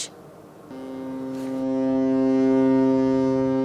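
A Liberian-flagged container ship carrying 950 containers of garments sounds its deep horn as it departs Chittagong port for Italy, one long loud sustained blast that swells after a brief start.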